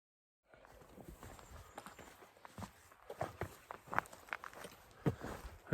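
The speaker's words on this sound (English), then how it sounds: "Oh, those are 2 fresh foals there." Horses with young foals walking along a trail, irregular hoof clip-clops and footfalls at close range, growing louder toward the end, with no talking.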